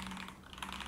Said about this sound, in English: typing sound is loud, but it's not that loud